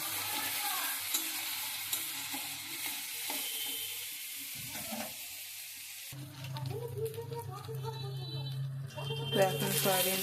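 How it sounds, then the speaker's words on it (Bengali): Soybean chunks fry in a pan with a steady sizzle and occasional stirring scrapes, growing busier and louder in the second half, with no talk over it. "সয়াবিনটাকে একটু ভেজে ভেজে নেব"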